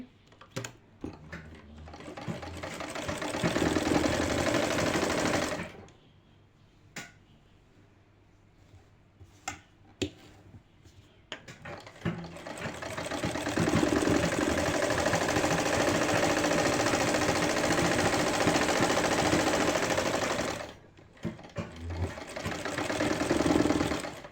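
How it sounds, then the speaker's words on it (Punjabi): A sewing machine stitches a shirt seam in bursts, giving a loud rapid mechanical chatter that runs for several seconds, stops briefly for quieter handling, then restarts for a long run and one more short burst near the end. "ਇਹਦੀ ਪਾਈਪਿੰਗ ਕੱਢ ਕੇ ਇਹਦੀ ਕੰਨੀ ਕੰਨੀ ਤੇ ਸਿਲਾਈ ਲਗਾਵਾਂਗੇ"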